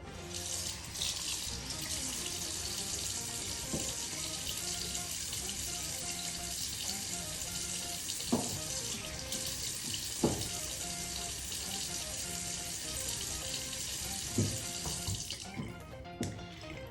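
Water runs steadily for a long stretch as it is applied to hair, a continuous hiss with a few faint knocks and clicks, with no talking.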